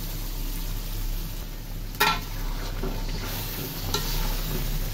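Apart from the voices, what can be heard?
fried meat stirred into sizzling cooked spice masala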